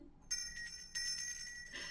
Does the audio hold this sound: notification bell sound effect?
yes